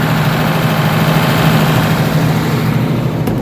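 Large 80 kVA generator engine running, a steady loud low rumble and hum at close range with no pauses and no voices.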